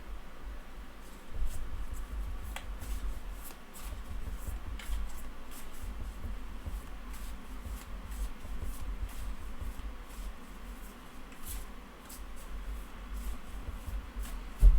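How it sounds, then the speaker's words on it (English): Soft continuous rustling and flicking of tarot cards being shuffled, steady and close, with no talking. "Just give them a little bit of a shuffle before we start."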